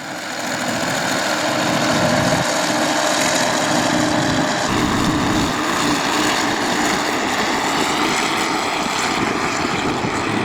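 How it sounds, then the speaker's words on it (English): A snowblower runs steadily outdoors on a snowy day, clearing the last of the snow with a loud, continuous engine roar and whooshing blast that holds constant throughout, with no talking. "There goes the snowblower."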